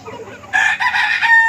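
A rooster with severe respiratory disease, recently treated, crows loudly and close by in a single sustained, strained call, preceded by soft clucking.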